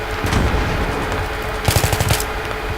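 Rapid bursts of automatic gunfire crackle over a dense, noisy Battlefield 3 multiplayer soundscape, with a sharper cluster of shots near the end.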